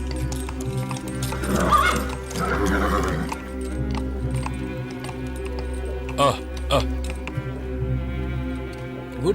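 A horse neighs and whinnies loudly while its hooves clip-clop nearby, with people talking over the animal sounds, in a Dracula 3D film scene.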